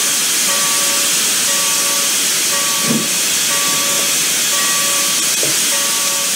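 Steam hissing from a leaking locomotive in a train simulation game set on Donner Pass, a steady loud broadband hiss running throughout with faint repeating tonal beeps layered over it.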